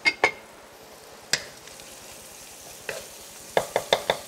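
Chili and galangal hit a hot pan with brief sizzles, followed by a quick series of sharp spatula clacks and scrapes against the metal, fairly quiet with gaps of soft frying between.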